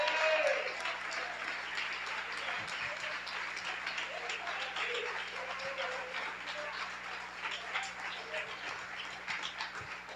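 A church congregation at a prayer-circle congress claps in praise, a broad, continuous wash of applause lasting the whole stretch, with a low steady hum beneath and scattered voices mixed in.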